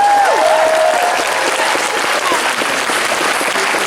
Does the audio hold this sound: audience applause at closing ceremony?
yes